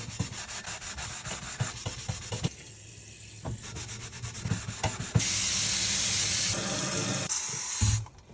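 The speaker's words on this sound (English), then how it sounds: "now we're going to test the Power Paste on the bottom of this stainless steel pot" Scrub Daddy Power Paste scrubs the bottom of a stainless steel pot with quick back-and-forth rubbing strokes. Near the end the scrubbing shifts to a louder, steady hiss that cuts off sharply.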